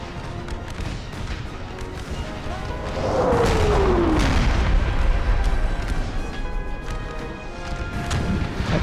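Booming video game cannon fire with cluster shot rumbles in an American Civil War battle, with a whistling, descending projectile sound, followed by sustained crashing and distant blasts.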